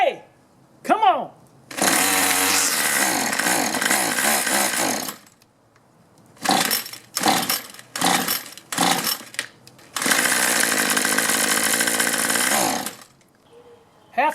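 A gas string trimmer with a fuel problem and hard starting, cranked and run on choke: several loud bursts of buzzing two-stroke engine, each cutting out after a few seconds, with brief pulls and pauses between and a voice shouting.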